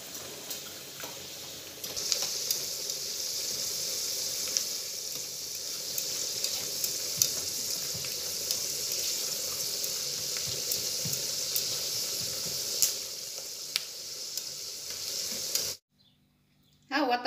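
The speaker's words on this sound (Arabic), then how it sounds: "ها هو دابا بدا كيتحمر، نقص عليه العافيه، العافيه غير مهيله باش يتحمر لينا من الداخل" Meat sizzles and browns steadily in a Moroccan tajine over a low flame, a continuous close frying hiss that cuts out abruptly near the end.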